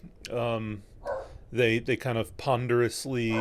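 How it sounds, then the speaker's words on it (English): A pet dog barks loudly and repeatedly close by, in sharp yappy bursts that overlap and trade off with someone speaking. "I apologize for my dog barking."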